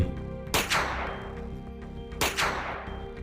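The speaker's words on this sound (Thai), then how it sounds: "เสียงปืนดังขึ้นสามนัดซ้อน" Three sharp, booming gunshots from an audio drama fire in quick succession, each crack trailing off in a long echoing decay over a low background hum.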